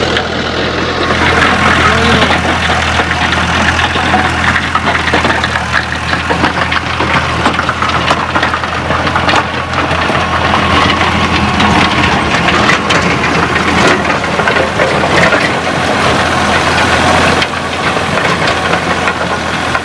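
A tractor engine runs steadily with a 54-blade multi-speed rotavator attached, a loud continuous diesel drone with knocking vibration that holds for the whole stretch without letup.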